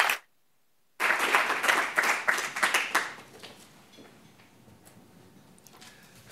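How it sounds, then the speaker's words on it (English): An audience claps for a guest speaker at a talk, a short burst of applause starting after a brief silence and fading over a few seconds into quiet room tone. "Give him a warm applause"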